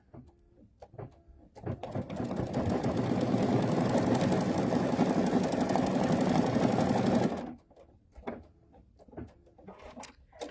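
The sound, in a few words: sewing machine stitching quilt fabric with white thread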